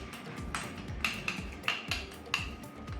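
Hand-stirring healthy homemade salad dressing with pepper in a bowl: a spoon scrapes and clinks against the side in a steady rhythm, with several brighter knocks standing out over soft background noise, no talking.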